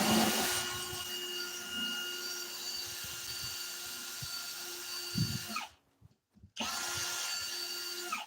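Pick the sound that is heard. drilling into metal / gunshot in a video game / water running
drilling into metal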